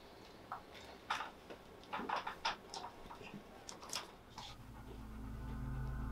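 A restless dog at night gives short panting breaths and soft whimpers in scattered bursts, fairly close, followed by a rising low rumble toward the end.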